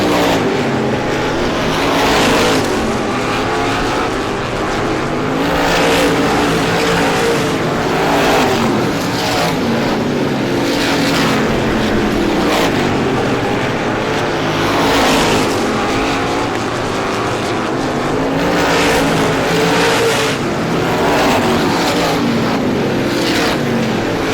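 Race cars roaring around a short track during the 51st Star Classic, engines loud and continuous as they battle for position off the fourth turn, with repeated swells of passing cars.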